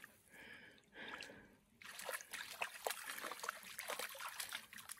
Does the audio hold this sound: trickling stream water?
yes